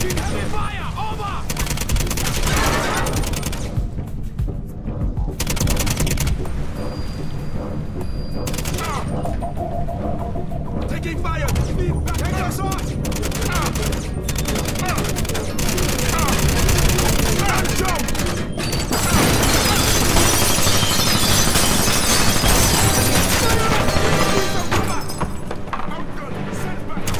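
Heavy sustained gunfire and bursts from the Quantum of Solace game on PS3, loud and continuous throughout with shouted voices mixed in.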